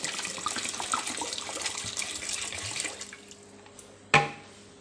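Water pouring into a cooking pot with potatoes and lentils, a continuous splashing stream that tapers off and ends with a sharp metallic clunk, close and alone.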